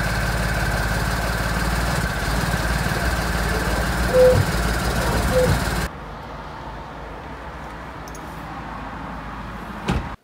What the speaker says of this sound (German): So, Auto habe ich hier hingeholt, läuft nur auf 3 Zylindern.